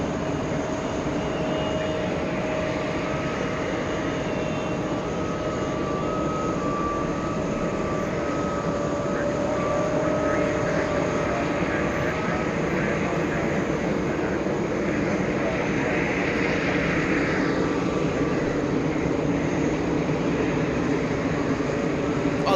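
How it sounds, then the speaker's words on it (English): A Virgin Atlantic Airbus A330 arriving from Manchester at JFK, a steady broad jet engine roar and rumble heard from a distance across the whole stretch, with people talking over it. "I do love how the A330s touch down."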